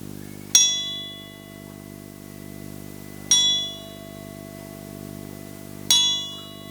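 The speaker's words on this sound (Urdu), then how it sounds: "میں گھنٹی بجاؤں گی، اس پہ پھر آنکھیں کھول لیں" A meditation bell is struck three times at even intervals, each bright metallic ding ringing out and slowly fading, with a soft low hum underneath in an otherwise quiet room.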